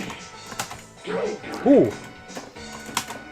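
Keyboard keys clack in a few sharp taps and short flurries, close and fairly loud, while a voice makes a brief exclamation partway through.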